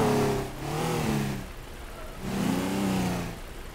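A car driving off in the video game Teardown, its engine revving up in two rising and falling surges, moderately loud with a whirring tone.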